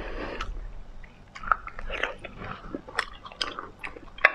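Cooked oysters are bitten and chewed close to the microphone, giving soft, irregular wet crunches and mouth sounds at a quiet level with no talking.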